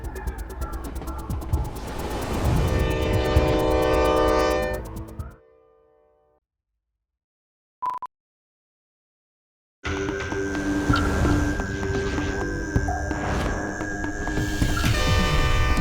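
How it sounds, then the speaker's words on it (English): The Ghan passenger train crossing the red desert of central Australia, a loud, steady rumble of running gear with a horn-like tone, cutting out to near silence, then returning with a tonal hum and clatter. "The mighty Ghan charges cross-country through the giant red center of Australia."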